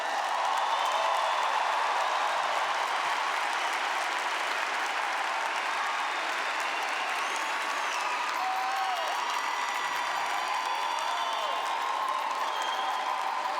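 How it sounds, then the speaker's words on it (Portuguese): Church congregation applauding during a sermon, a dense, sustained wash of clapping from many hands with a few voices calling out above it. "pode aplaudir"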